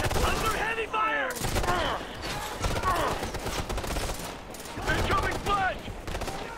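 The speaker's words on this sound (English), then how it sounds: "Under heavy fire!" Heavy, continuous gunfire in the video game Ghost Recon Future Soldier, loud rattling bursts throughout, with soldiers shouting over the shooting.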